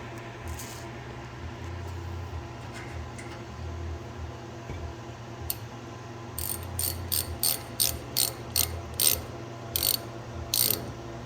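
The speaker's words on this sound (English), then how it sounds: "Getting this started is the biggest part of the hardest part of tapping a hole." Quiet, repeated metallic clicking of a hand tap threading a hole in short strokes, getting into a steady rhythm of crisp ratcheting ticks toward the end.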